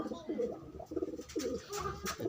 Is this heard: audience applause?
no